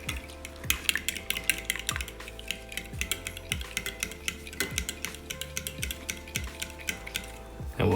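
Lemon rice soup stirred in a pot: a spoon knocks and scrapes against the pot in a steady rhythm of clicks, roughly one every half second, over a low constant hum, with no talking.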